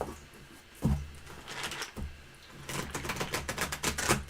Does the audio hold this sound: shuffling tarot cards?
yes